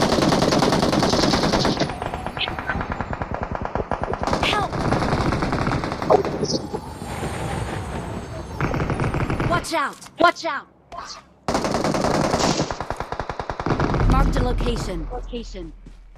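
Video game gunfire bursts loudly in rapid machine-gun volleys with scattered single shots and a few pauses, while people talk excitedly over it.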